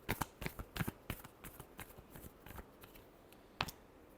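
A tarot deck being shuffled by hand, a quick run of crisp riffling card snaps close up, easing into softer taps and one final sharp flick.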